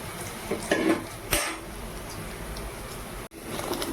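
Metal utensils clink and scrape against a pot as tempering is poured into mutton kulambu, with a couple of sharp clanks over a faint background.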